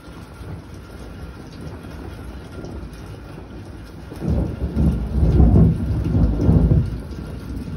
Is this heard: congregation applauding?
no